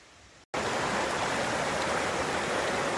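A stream rushing at an early-morning Appalachian Trail water crossing, loud broadband flowing water starting abruptly after a brief gap and continuing steadily, close and without talking.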